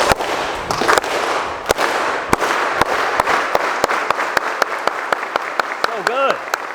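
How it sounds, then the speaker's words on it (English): An audience at a school new-parent welcome claps in unison, starting slow with spaced single claps that gradually speed up, over a loud background of crowd noise and cheering. "We do a slow clap. We do it together, and then we build."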